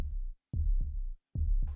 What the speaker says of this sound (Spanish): con la conciencia de escuchar nuestros latidos